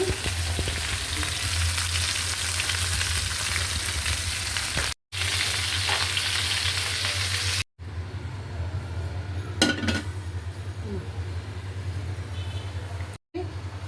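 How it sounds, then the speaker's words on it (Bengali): Chicken fries in a pan on the stove with a close, steady sizzle across the whole stretch, broken by a few short cuts and an occasional clink of utensils. "আর আমার ওই পাশে চুলা হয়েছে মুরগিটা ভাজতে দিছি।"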